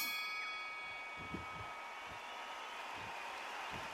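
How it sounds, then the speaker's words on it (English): A boxing round bell in the PS5 game Undisputed rings out as a single clear clang that lingers with a long, ringing decay, quiet in the game mix with faint thuds beneath it. "And there's the bell to start the round."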